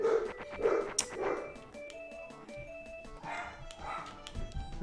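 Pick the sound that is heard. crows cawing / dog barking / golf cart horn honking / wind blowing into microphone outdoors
dog barking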